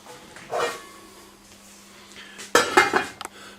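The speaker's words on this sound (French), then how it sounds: "maintenant tu vas mettre le couvercle" A lid set onto a cast-iron casserole pot of boeuf bourguignon, a soft clink followed by a louder heavy metallic clatter and rattle near the end, close and otherwise quiet.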